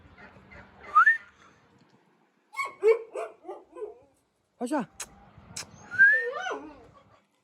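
A dog gives high whimpers and yelps mixed with sharp barks, close by, while a person speaks briefly.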